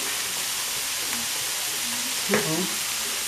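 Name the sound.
vegetables with parsley and bay leaves being stirred while frying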